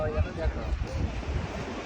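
Sea waves wash steadily onto a shore, a low continuous surf rumble with some wind buffeting the microphone throughout.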